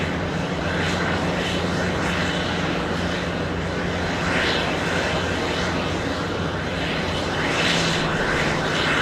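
A CRJ900 regional jet lifts off at JFK, and its engines give a steady, moderately loud roar with a rising whine that swells in places, with no speech.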